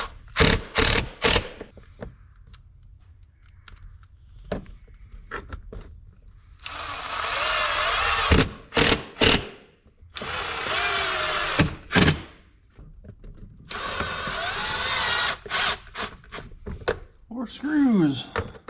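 A power drill drives screws into a tablet holder mount on a Can-Am X3, running in three sustained whirring bursts with brief pauses, while someone talks in short stretches between them.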